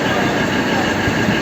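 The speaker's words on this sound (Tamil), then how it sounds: "ஸோ இதான் ஸ்ரீநகர் ட்ரெயின் எப்படி இருக்குது" Srinagar train on the Banihal to Baramulla line, a steady broadband rumble of rolling stock close by with continuous rail noise.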